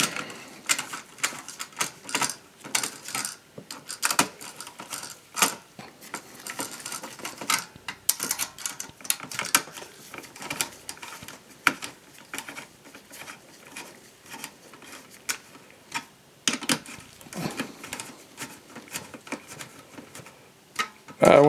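Bolts being driven into a heatsink fan on a Dell Optiplex 7010, heard as irregular close clicks, taps and scrapes of a screwdriver and hardware, fairly quiet.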